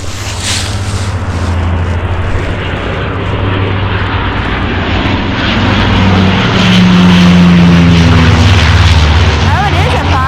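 A firefighting airplane drones loudly overhead on a hiking trail, its engine roar steady and swelling slightly as it passes, with people talking over it.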